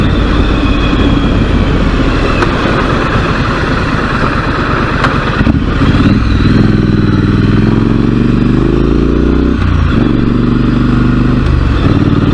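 Motorcycle engine pulling hard under acceleration while riding, revving up through the gears with rising pitch sweeps and brief dips at each gear change, loud and continuous with wind noise throughout.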